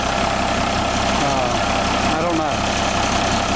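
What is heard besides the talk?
International truck 466 engine idling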